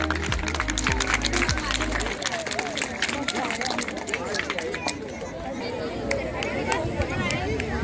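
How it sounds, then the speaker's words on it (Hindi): Audience applause at a school annual sports meet prize distribution ceremony, steady dense clapping from a crowd throughout, with a low rumble early on and background chatter mixed in. "तालियां बजती रहेंगी।"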